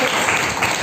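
A church congregation claps their hands in praise of God: dense, continuous applause filling the room for a short moment.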